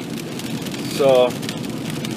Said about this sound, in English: I'm glad I came in while it's raining.